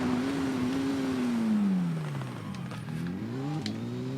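A racing motorcycle in the TT Isle of Man 2 video game drones at high revs, its engine pitch falling steadily under heavy braking, then climbing again as it pulls away.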